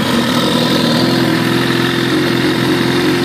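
A 2009 Suzuki GSX-R 1000 sportbike engine running at a steady idle, loud and close, with an even, continuous rumble and no talk over it.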